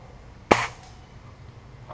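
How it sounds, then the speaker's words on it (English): A single quiet pellet gun shot, used for small game, gives one sharp crack and then a short fading tail, followed by low background hiss in an outdoor setting. "You heard how quiet that thing is? I kill small game with this baby. It's just a pellet gun."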